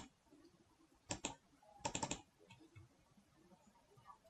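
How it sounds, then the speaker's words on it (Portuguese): Typing on a computer keyboard to enter a chart title: two short bursts of quick, close key clicks over a quiet room, with no talking. "E digitar o título do meu gráfico."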